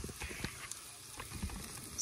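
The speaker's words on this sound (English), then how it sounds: "sauteing these" Vegetables for a vegetarian chili sauté in a pan on a gas camp stove outdoors, making a faint, steady sizzle with soft irregular crackles.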